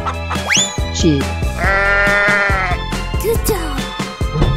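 A cartoon sheep bleats in a long wavering baa over playful children's music, with shorter animal-like squeaks around it, close and clear.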